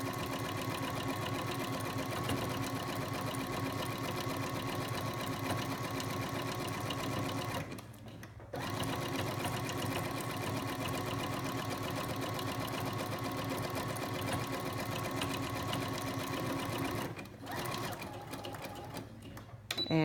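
A sewing machine runs steadily, stitching a big loose zigzag around washable cloth sanitary pads, its fast mechanical whir continuous with two brief pauses.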